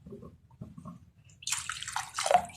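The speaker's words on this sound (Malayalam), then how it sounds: "ഇനി ശകലം വെള്ളം കൂടെ നമുക്ക് ഒഴിച്ചു കൊടുക്കാം." Water poured into a pot of coconut-milk fish curry, a short splashing pour after a moment of quiet kitchen sounds, close and clear.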